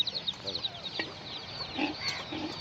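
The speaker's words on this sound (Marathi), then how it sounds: "एखादी कोंबडी टोची मारेल ना सागर तुला" Several chickens cluck and chirp in quick, uneven bursts close by, with a few louder squawks mixed in.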